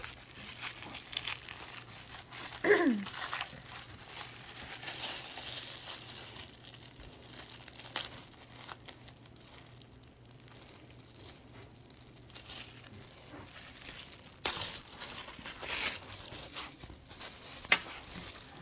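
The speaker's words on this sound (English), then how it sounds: "And we'll go ahead and unwrap him." A reborn baby doll is unwrapped from its plastic packaging with steady close crinkling and rustling throughout, plus a few sharper tearing crackles.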